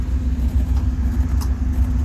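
A 1964 Jeep CJ-6 engine runs steadily up close, a loud continuous low rumble with a slightly uneven idle pulse throughout.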